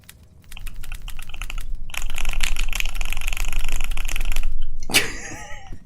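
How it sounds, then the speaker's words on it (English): Hard, fast typing hammers on a computer keyboard, a dense clatter of close, loud keystrokes that builds over several seconds and then stops, followed by a brief sharp noise. "I'm slamming the keyboard so hard to get that to show up on the mic"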